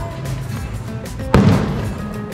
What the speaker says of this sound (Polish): Wystrzały w niebo.